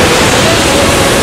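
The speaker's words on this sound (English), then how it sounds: "Look how big those waves are." Big ocean waves break at Reunion Island, a loud, dense, continuous roar of surf that fills the whole moment with no pauses.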